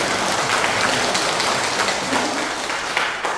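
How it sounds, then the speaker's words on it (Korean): An indoor audience at a community training session gives a steady, dense round of applause. The many hands blend into a continuous rain-like patter that lasts several seconds, with no talking over it. "박수 한번 치시죠"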